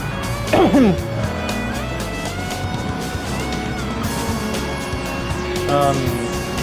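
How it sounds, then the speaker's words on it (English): A loud race car engine drones steadily throughout, with a brief tire-like screech near the start and a rising surge toward the end. "that car's loud"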